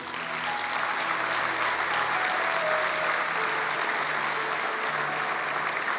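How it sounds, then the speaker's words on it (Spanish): A church congregation applauds the Lord during a Christian sermon, producing steady, dense clapping that fills the room evenly for several seconds with a faint tonal murmur underneath. "Dale un aplauso al Señor."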